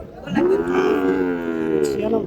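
Sahiwal calves at a busy cattle market lowing in one long, loud moo that swells and holds steady, with faint crowd noise behind it.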